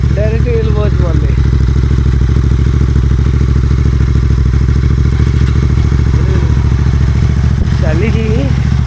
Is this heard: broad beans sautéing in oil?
no